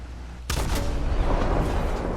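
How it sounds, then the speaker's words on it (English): A KV-2 tank in War Thunder fires its 152 mm howitzer: one sudden loud, heavy boom cracks out and then rolls into a long rumbling tail. "152 millimeter howitzer."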